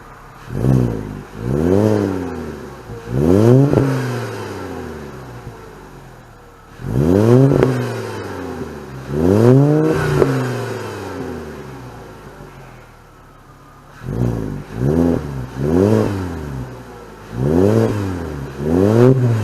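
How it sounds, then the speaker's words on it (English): A Volkswagen MK5 Rabbit engine with a loud aftermarket cat-back exhaust, idling between repeated sharp revs that rise and fall in quick bursts, close by with no talking. "I'm gonna let the engine warm up a little bit and make some noise."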